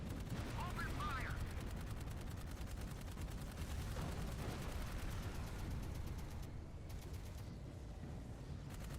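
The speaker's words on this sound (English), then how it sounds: "Open fire." Dense, continuous gunfire crackles through the Dark Void video game, rapid shots layered over low rumbling effects, with voices faintly present underneath.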